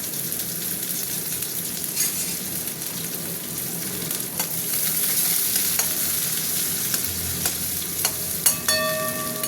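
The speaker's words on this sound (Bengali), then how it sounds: "পেঁয়াজটা একটু ভাজা ভাজা হোক" Onions crackle and sizzle steadily in hot oil in a pan with panch phoron, with a utensil scraping and stirring through them at intervals and a few sharp metallic clinks near the end.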